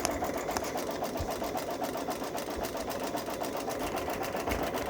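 A Babylock Solaris Vision embroidery machine stitches a satin stitch, a fast, steady mechanical whir with an even needle patter, running close and unbroken the whole time.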